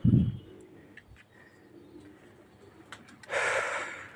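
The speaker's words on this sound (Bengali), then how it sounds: "স্ক্রিনের শুরুতেই যে বাচ্চা জোড়া দেখতে পাচ্ছেন এ জোড়া হচ্ছে তুলা এবং গলালালের কম্বিনেশনে তৈরি করা এক পেয়ার কবুতর" A young pair of pigeons, a Tula and Golalal cross, gives a short low coo at the very start, then soft rustling follows before a louder, breathy burst near the end.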